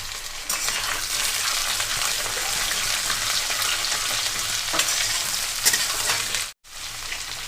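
Potatoes and coarsely chopped onions fry in a pan for a Bengali tengra fish jhal, a steady loud sizzle with scraping stirs throughout and a brief drop near the end.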